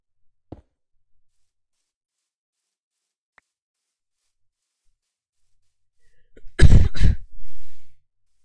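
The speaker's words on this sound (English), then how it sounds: "If I could stop coughing," A person coughs and clears their throat in a short loud burst of two or three harsh coughs near the end, after mostly silence with a faint click early on.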